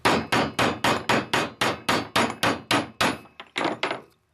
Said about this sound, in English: Highly recommend use a bushing driver.